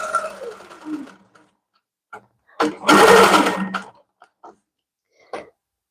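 A longarm quilting machine stitches a quilt in a studio, running in a couple of short loud bursts with brief stops between, close and alone at first after some faint background sound.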